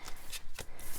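A deck of tarot cards being shuffled by hand: a few quick, crisp riffling bursts in close succession, near and clear, with no talking.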